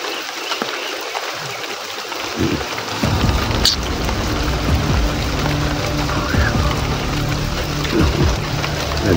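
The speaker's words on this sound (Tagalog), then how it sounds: "Ito, kahit pa umuulan po." Steady rain falls outdoors, a dense hiss of drops on surfaces that thickens after a few seconds, with low rumbling underneath.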